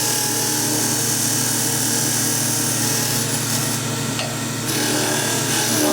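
A negative rake scraper shaves wood in steady, continuous scraping strokes, close and fairly loud, with no talk.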